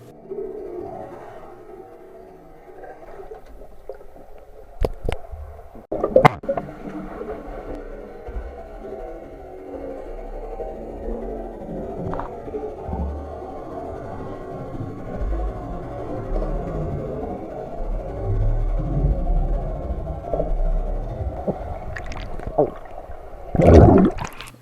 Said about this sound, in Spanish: ver la calidad del sonido debajo del agua con la funda puesta